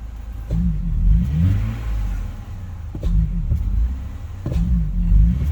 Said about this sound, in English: I'm gonna hit the gas fairly hard.